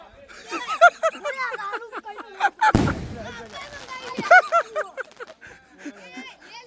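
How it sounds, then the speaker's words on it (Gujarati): A large firecracker bursts once with a sharp, loud bang at a lively celebration, surrounded by excited voices and laughter before and after. "મોટો ટેટો ફોડ્યો હરી."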